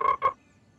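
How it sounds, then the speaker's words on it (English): A cartoon frog gives two quick, close croaks in a row, then falls silent. "No, George, the frog is close."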